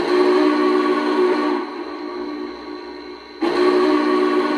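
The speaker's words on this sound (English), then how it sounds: "The big boy whistle." A loud, steady Big Boy steam whistle on a Lionel Legacy model locomotive blows, briefly softens, then returns at full strength, with a clear multi-toned chord.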